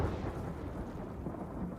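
Thunder after a lightning strike in Ghost of Tsushima, a brief low rumble that rolls on for under two seconds at an even loudness, with no voices.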